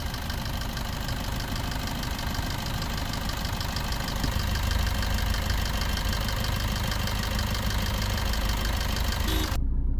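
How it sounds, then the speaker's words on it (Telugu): A car engine idles steadily after a decarbonization injection treatment, a close, even mechanical hum with a faint rhythmic knock running throughout, cutting off abruptly just before the end. "ఆఫ్టర్ ఇంజక్షన్ ఒకసారి ఇంజన్ నాయిస్ అయితే నోటీస్ చేయండి."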